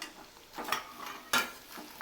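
Prawns frying and being stirred in a pan, with soft sizzling and a few short scraping stirs, one sharper clatter midway; quiet and close.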